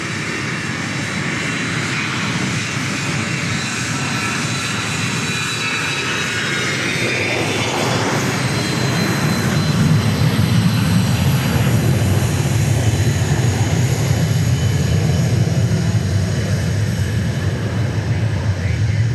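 An old Hawker business jet passing at Dallas Love Field, a rising broadband jet roar that builds and stays loud, heard from an outdoor spotting position with people talking.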